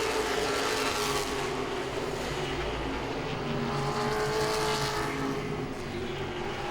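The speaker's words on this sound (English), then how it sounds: "Danny Edwards closes up to the back bumper on Casey Wyatt" Late model stock cars racing at Langley Speedway, a steady loud roar of engines with revving and passing cars running continuously, no voices over it.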